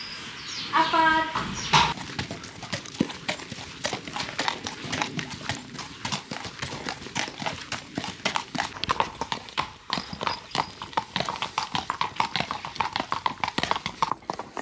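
Hooves of a horse clip-clop steadily on a snowy winter trail ride, a brisk, fairly close rhythm with a rider's voice speaking over the start.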